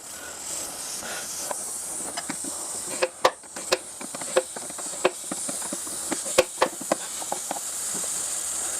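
Air hisses steadily as pressure bleeds out of the front air strut on a Range Rover L322 during a strut replacement, with a scatter of sharp metallic clicks and ticks rising above it partway through.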